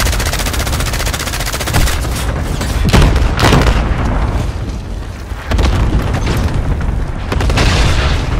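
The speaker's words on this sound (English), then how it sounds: "Allied cluster strike inbound." Dense run of video-game combat: cluster-strike explosions and booming blasts mixed with rapid gunfire, loud and continuous, with several heavier impacts around the middle and a brief dip before the barrage resumes.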